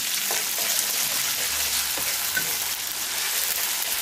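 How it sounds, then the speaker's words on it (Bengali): Onion and cumin paste frying in a pan, giving a steady close sizzle with occasional stirring clicks and no talk. "জিরা বাটাটা দিয়ে ভালো করে ভাজবো।"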